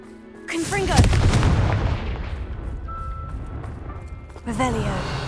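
A Confringo blasting spell in a Hogwarts game erupts as a loud explosion about a second in, with a booming tail that decays over a couple of seconds, framed by spoken voice lines before and after.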